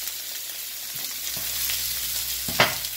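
Beef stir-frying in a pan for an Asian-style stir-fry, a steady close sizzle with a few soft utensil scrapes and one sharper clank near the end.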